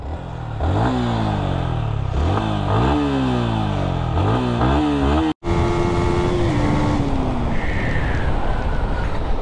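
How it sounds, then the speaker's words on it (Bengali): A Yamaha MT-15 motorcycle engine revs repeatedly up and down at close range after servicing, then cuts out briefly and settles into a steady, rough idle. "আমি আপনাদের একটু ইঞ্জিন সাউন্ডটা শোনাই"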